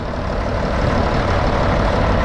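The engine of a 1978 Bizon 5056 combine harvester runs at a steady idle, a close, loud, even diesel drone with no speech over it.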